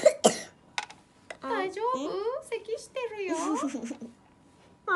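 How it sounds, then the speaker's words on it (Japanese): Child coughing twice near the start, two sharp loud bursts close to the microphone, followed by animated speech from a voice playing characters. "大丈夫？咳してるよ。"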